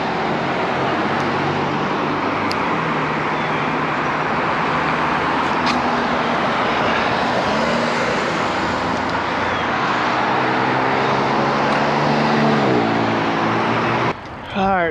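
Steady roadside traffic by a greenway in Forsyth County, Georgia: cars and heavier vehicles rush past continuously at close range, with the engine drone rising and falling.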